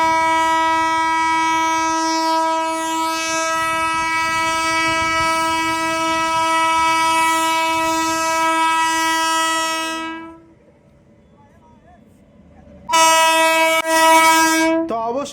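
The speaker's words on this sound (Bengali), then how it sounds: "জয়রামবাটিতে সিআরএস ট্রেন ঢুকে গেল" A CRS special train, the first one running, pulls into Jayrambati station sounding a loud, sustained horn for about ten seconds. After a quieter gap, a second close horn blast follows.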